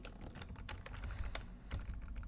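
Fingers type code quickly and continuously on a computer keyboard nearby, a steady patter of close keystrokes with no voices.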